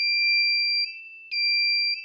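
Buzzer of an IR sensor circuit sounding a steady, loud electronic tone that cuts briefly to a softer pitch mid-way before resuming, close and alone.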